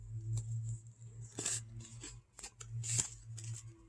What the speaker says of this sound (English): I'm just going to tear it, even though it says scissors.